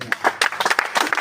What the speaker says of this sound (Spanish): Denle un aplauso a la palabra del Señor.